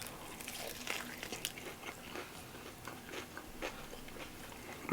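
Crunchy battered fried chicken breast from a diner being bitten and chewed close up, with several crisp crackling crunches and softer chewing between them, a louder bite right at the end.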